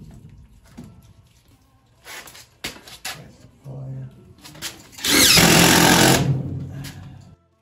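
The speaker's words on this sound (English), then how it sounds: "Shoot screws in this ductwork and make sure that it don't come out." Power drill driving screws into furnace ductwork during a gas furnace install: short clattering bursts, then a loud sustained whir near the end, close by, with some speech and handling noise around it.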